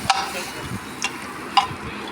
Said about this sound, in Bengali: ঘি বাটার তেল মশলা সবই মাখিয়ে দিলাম